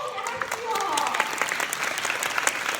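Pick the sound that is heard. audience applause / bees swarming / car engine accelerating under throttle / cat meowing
audience applause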